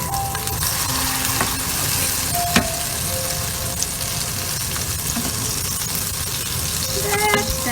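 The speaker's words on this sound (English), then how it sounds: "They will be shallow fried" Red kidney bean kebabs shallow fry in oil, a continuous close sizzle and crackle with faint scattered tones and small clinks over it, no voices.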